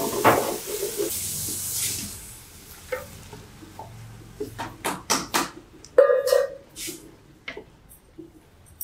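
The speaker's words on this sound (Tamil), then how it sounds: "மிளகாத்தூள் கொஞ்சம் எண்ணெயில் போடுவோம்." Chili powder dropped into hot oil while cooking a parotta curry, giving a soft steady sizzle with scattered sharp crackles and stirring scrapes, louder bursts toward the end.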